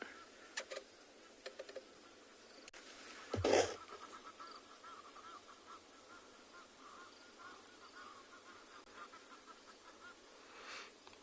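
Egyptian geese on a South African safari reserve give a few brief honks in the distance, faint among insect buzzing and outdoor ambience, with one louder burst early on.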